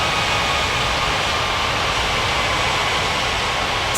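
Steady broadband jet-engine roar of an animated airliner taxiing to runway 12 right, a continuous even wash of noise with no change in level throughout.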